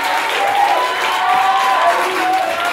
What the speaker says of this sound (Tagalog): Mas malakas ka palakpak.